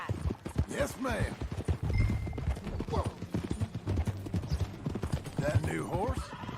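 Steady clip-clop of horse hooves at a riding pace in the video game Red Dead Redemption 2, running under talking voices and background music.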